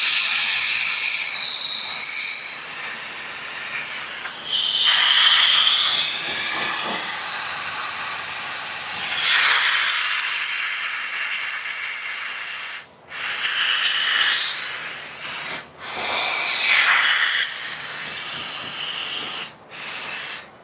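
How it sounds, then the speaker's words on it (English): Compressed air blasts flush cleaner out of a car's AC system in a loud, close, sustained hiss broken by a few sharp pauses and bursts, with no talk. "You want to blow it, so it's basically just air coming out of here, right?"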